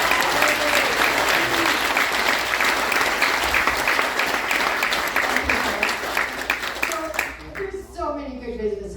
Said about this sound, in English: we'd like to give him a big hand of applause.